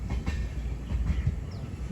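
Cocanada Superfast Express train slowly shunting, a steady low rumble of rolling wheels and carriages with faint rhythmic clicks, moderately loud and continuous with no talk.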